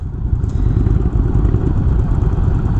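Engine of a 2019 Indian Springfield Dark Horse motorcycle rumbles steadily and loudly at close range, a low continuous throb with no talk.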